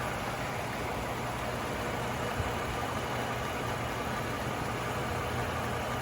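A car engine idles steadily during a basic air-conditioning recharge, with a constant broadband hum throughout and no talking.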